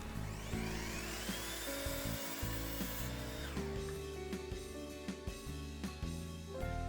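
A power saw cuts a scrap of pine wood square, producing a loud, continuous whining buzz with shifting pitch and a rough grinding edge throughout, with no speech.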